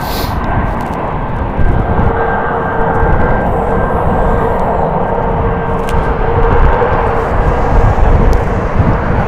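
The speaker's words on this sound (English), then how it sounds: "One right, clear for takeoff, Southwest 1377." A Southwest airliner taking off from a runway at Las Vegas Harry Reid International Airport: a loud, steady jet engine roar with a constant whine, buffeted by wind noise, and no voices.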